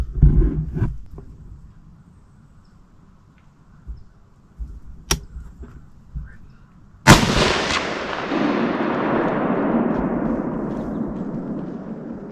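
A single sharp, loud rifle shot rings out at a deer during a hunt outdoors, followed by a long rolling echo that slowly fades, after quiet rustling and a few faint clicks.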